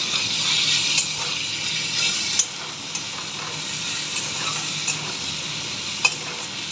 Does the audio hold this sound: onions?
yes